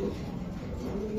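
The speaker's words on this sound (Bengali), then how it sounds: "এটা নর কবুতর দাদা।" A young male racing pigeon coos in a short, low, close-up burst against a faint background hum, with no speech over it.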